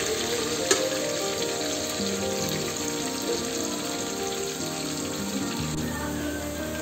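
Goat head meat sizzles in a pan while being stirred until browned, a dense constant frying hiss close up with occasional scraping clicks of the spoon, no voices.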